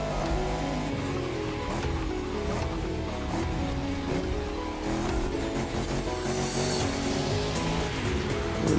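Car engine droning steadily through a drive in the racing game The Crew Motorfest, with tire and road noise layered over a busy, continuous mix and no pauses.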